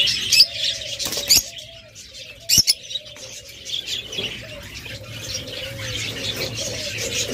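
Caged pet birds, a breeding pair kept among doves, lovebirds and budgerigars, chirp in short bright bursts over a steady low cooing, with sharp close calls scattered through the whole stretch.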